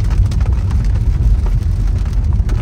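Evening rain in Braga after dark, a steady dense hiss of falling rain over a low rumble, continuous and fairly loud with no voices.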